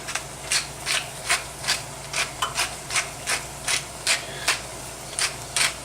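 Fresh black pepper ground from a pepper mill to season baked chopped clams casino style with Brie: about a dozen rhythmic, evenly spaced grinding crunches, close and clear over a low steady background hum.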